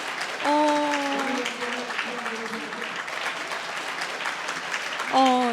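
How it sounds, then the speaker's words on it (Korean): Guests at a wedding applaud ahead of the bride's mother singing, with steady clapping under a voice and other speech. "여러분 박수 한번 보내주시고"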